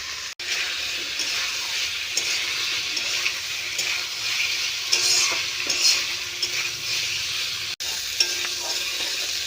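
Fried soybeans stirred into a spiced potato curry in a pan give a continuous loud sizzle and frying hiss, with scraping stirs and a couple of brief clatters of the utensil against the pan.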